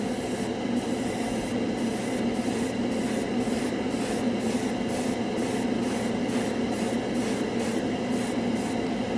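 An airbrush sprays a light first coat of acrylic paint onto a scale model, giving a steady, close hiss that runs unbroken throughout, with faint regular ticks over it.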